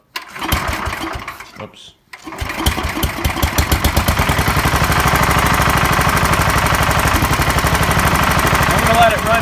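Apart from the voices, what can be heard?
1969 Sears SS12 tractor engine restarting when warmed up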